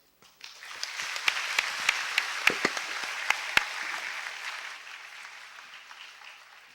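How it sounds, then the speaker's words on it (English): Audience applause at a university event honoring the Prime Minister of Malaysia, a dense bed of clapping that swells quickly and holds, with a few sharp, louder claps from nearby hands standing out, easing off toward the end. "Ladies and gentlemen, another round of applause for His Excellency Tun Mahathir"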